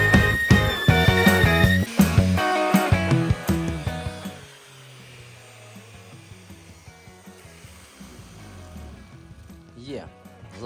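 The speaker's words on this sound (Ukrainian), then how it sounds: "феном підігріваємо, туди придавлюємо і заливаємо все пластиком" A heat gun warming a plastic car bumper during plastic welding repair blows with a steady airy whoosh after a burst of clattering workshop noise, while someone talks over it.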